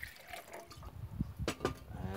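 Water poured into a pot resting on pegs over a Trangia camping stove, a soft, close gurgling pour with a few splashy bursts near the end, fairly quiet.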